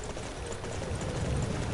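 Horse hooves clip-clop in Dynasty Warriors 9 Empires, a dense continuous patter of galloping footfalls under a broad noisy game soundscape, without speech.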